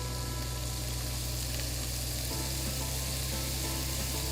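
Raisins and pine nuts land in a hot frying pan, with a steady loud sizzle throughout and a slight change in texture partway through as they are stirred in.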